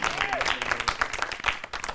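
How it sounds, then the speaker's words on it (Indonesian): A comedy show audience gives a short burst of applause, with moderate clapping and a brief vocal whoop over it. "tepuk tangan dulu buat MNC"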